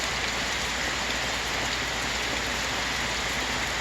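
Heavy rain pours down all around, a dense, constant roar of drops on surfaces with no break, loud and close throughout.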